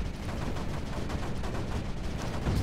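Turrets in the strategy game Creeper World 4 fire in a dense, rapid, continuous stream of shots, loud and close, with no pauses or talking.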